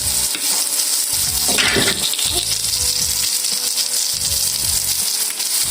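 Liver frying in a pan: a continuous, loud sizzle with bubbling and spattering, broken by stirring and scraping as the pieces are moved around.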